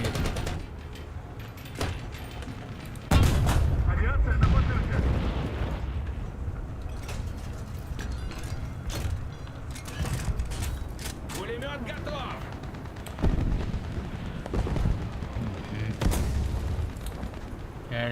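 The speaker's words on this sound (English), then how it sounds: "There's shots fired." Gunfire and artillery in War Thunder, heavy booming shots with a big blast about three seconds in and further thuds and mechanical clatter scattered throughout, with people talking over it.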